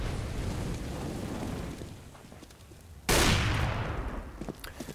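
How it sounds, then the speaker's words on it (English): A single loud Desert Eagle pistol shot from Counter-Strike on de_dust2 cracks out abruptly, with a reverberant tail, after a stretch of busy game noise. "Skirk with the refrag of the Deagle"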